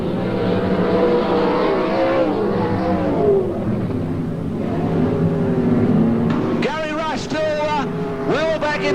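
Race cars in a night circuit-racing championship drone steadily as they lap the track, the engine roar rising and falling while a commentator talks over it.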